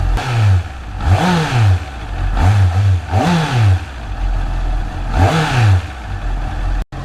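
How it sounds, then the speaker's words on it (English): A Honda CBR650R motorcycle engine, warmed up, revs up and down in several bursts over a steady idle, loud and close, with a sharp click at the end. "now is the time when you can actually give it a small revs"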